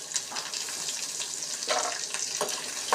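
Water is poured into a kitchen mixer jar to rinse it, making a steady splashing, hissing stream with a few brief gurgles and knocks.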